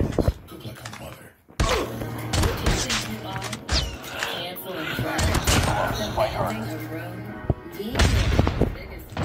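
Gunfire rattles in the mobile video game Call of Duty Mobile, with loud sharp shots and bursts spread through the stretch, mixed under game character voices calling out.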